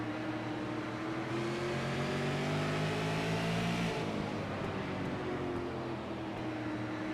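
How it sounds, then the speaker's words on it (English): A super late model race car engine on a track at Concord rises and falls continuously as the throttle is feathered through a short chute, a loud, close onboard drone with no talking. "Listen to how much he has to feather the throttle through that little short chute, turn 2"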